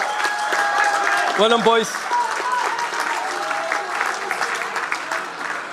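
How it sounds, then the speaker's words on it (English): Audience applause at the Irish National Oyster Opening Championships, a dense steady clapping that carries through the whole stretch, with a voice speaking briefly over it. "Ladies and gentlemen, round of applause."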